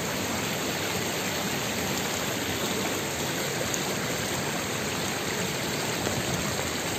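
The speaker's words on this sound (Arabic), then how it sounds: "شتا بدات تنقط." Steady rain falling outdoors in the countryside near Aghbal, Ahfir, Morocco, dripping from a tree after a long dry spell, a dense even hiss that stays constant throughout with no voices.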